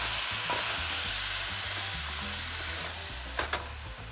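Rice and mutton frying and simmering in a pan right after hot water is poured in, a steady close sizzle with stirring, and a couple of brief scrapes near the end.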